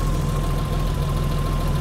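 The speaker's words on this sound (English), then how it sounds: "the engine's running incredibly rich now" A BMW E30 325i with the M20B25 inline-six idles steadily while running rich, a close, even engine drone with a constant low rumble and no speech.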